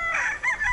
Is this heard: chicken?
yes